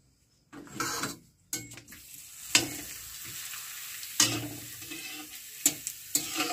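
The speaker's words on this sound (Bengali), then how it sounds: "পাঁপড়গুলো ভাজা হয়ে যাচ্ছে দেখতে পাচ্ছ" Papad frying four pieces at a time in hot oil in a wok hisses and sizzles in bursts, with scraping stirs and soft clatter between quieter pauses, close by.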